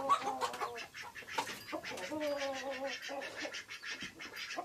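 Hen with her chicks clucking and peeping nearby, a steady run of soft bird calls and chirps that rises and falls with no one talking.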